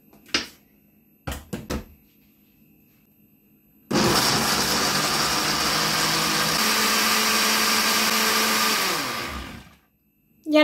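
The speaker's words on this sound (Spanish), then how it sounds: "Y ahora a batir todo." An electric blender whirs loudly and steadily for about six seconds as it blends a blackberry smoothie with vanilla essence, after a few short knocks. The motor then winds down to silence.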